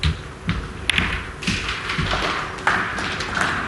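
At a professional snooker match at the 2023 Northern Ireland Open, a cue ball strikes a red on a quick table. Several sharp, close clicks and taps stand out against quiet hall ambience.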